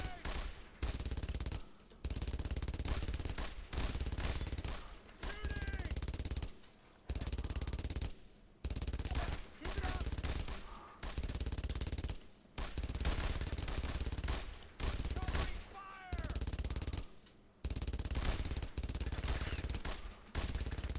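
Bursts of enemy rifle and machine-gun fire in the World War II shooter Brothers in Arms: Road to Hill 30, set in Carentan, come in repeated loud volleys broken by short pauses across the whole span.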